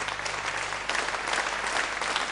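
Sustained audience applause for the musicians at a live concert by a singer with her band, a dense, even wash of many hands clapping with no voices over it.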